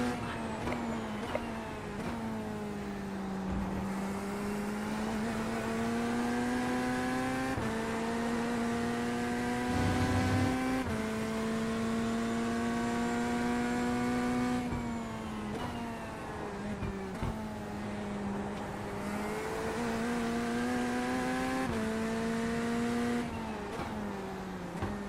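Ferrari race car engine in iRacing, a loud, steady high-revving drone with sweeping pitch changes as gears shift and speed rises and falls, continuous throughout with no talk.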